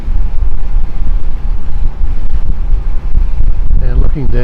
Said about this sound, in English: It's pretty gusty.